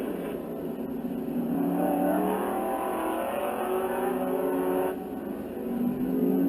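GT1 Corvette race cars lap the Hallett Motor Racing Circuit during a 25-lap national race, their engines making a continuous loud roar that rises and falls with a distinct drop around a shift before building again.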